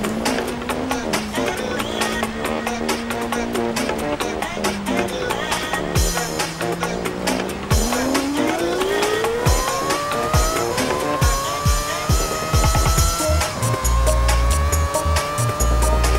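A Mazda MX-5 in Forza Horizon 4 runs through a street route, its engine droning and then climbing steadily in pitch through the gears, with repeated tire squeals and skids building toward the end.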